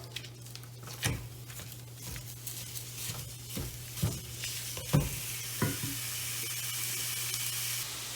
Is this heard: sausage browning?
yes